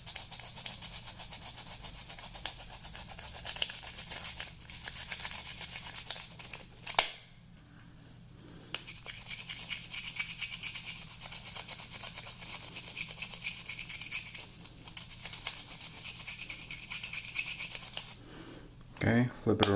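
Steady scratchy scrubbing of a toothbrush against an Apple AirPod, continuous rasping strokes with a brief pause midway, close and fairly quiet.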